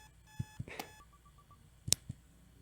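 A short electronic alarm clock from the video game Butterfly Soup gives a few quick, thin digital beeps, with light clicks and taps around them, brief and fairly quiet.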